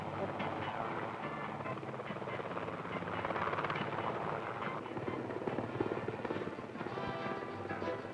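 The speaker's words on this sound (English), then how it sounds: "Cruising above the majestic formations of snow, ice, and rock, the helicopter heads north." A helicopter cruises over the snow, ice and rock of Greenland, its rotor and engine drone loud and continuous, with a narrator's voice over it.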